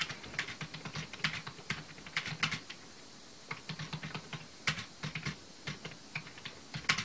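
Rapid keystrokes on a computer keyboard during live writing, clicking in uneven bursts and short runs with brief pauses, close and fairly quiet, with no voices.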